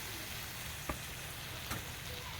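Spices sizzle and fry in a pan while being stirred for a Bengali-style chicken and potato curry, a steady soft crackle with two brief scraping stirs, faint and without talk.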